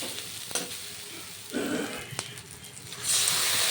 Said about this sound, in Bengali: এইবার মশলা খুব ভালো করে কষিয়ে নেওয়ার পালা।